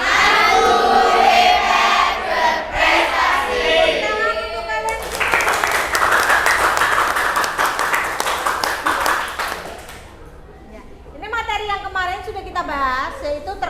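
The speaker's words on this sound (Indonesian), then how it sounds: "Tepuk tunggal, tepuk ganda, tepuk tunggal, tepuk ganda." A classroom of students claps on command, alternating single and double claps in a group rhythm, with a teacher's voice and chatter mixed in and louder clapping bursts in the middle section.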